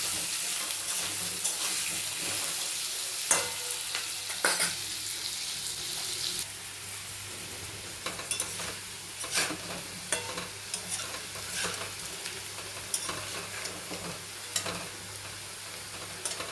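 Potatoes frying in oil in a wok for a paneer dish, a steady close sizzle broken by repeated scraping stirs of a spatula, the frying hiss dropping slightly partway through.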